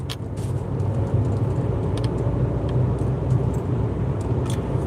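A car drives along, heard from inside the cabin as a steady low engine and road rumble with faint higher hiss, continuous and fairly loud with no talking.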